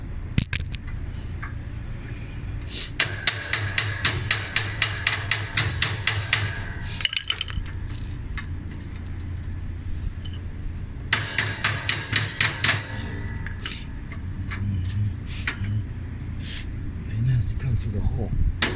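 Rapid bursts of hammer blows on metal while fixing a washing machine, two clusters of quick repeated strikes close by, with voices talking throughout.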